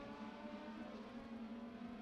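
Legend cars race around Beckley Motor Speedway in a feature event, their engines droning in a steady, sustained hum at a distance with no talk.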